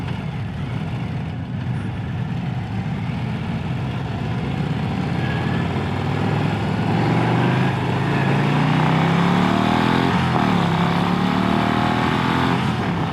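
A Harley-Davidson Road Glide ST CVO motorcycle rides along with a low, smooth, fairly quiet engine drone and wind rush that rises slightly in pitch and loudness toward the end.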